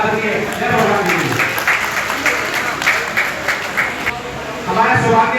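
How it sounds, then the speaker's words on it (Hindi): Audience applause at an Agrawal Vaishya community convention, a continuous patter of clapping from a large crowd, with a voice speaking over it near the end. "जोरदार तालियां"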